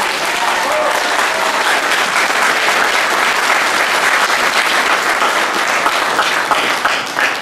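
Sustained audience applause at an evening political rally in Créteil honoring the event's general coordinator, loud and dense clapping filling the room steadily from start to finish.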